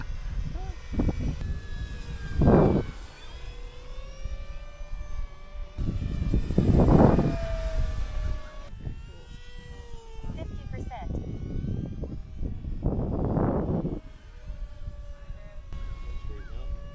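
A radio-controlled model airplane flies in gusty wind at a flying field and comes in to land, its engine drone rising and falling over steady wind noise while people talk nearby.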